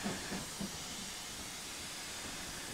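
A locomotive under heavy throttle in Train Simulator Classic, a steady low hissing, rushing roar with a few faint puffs at the start, continuous and fairly quiet.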